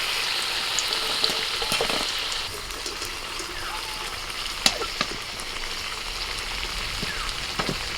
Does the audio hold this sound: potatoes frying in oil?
yes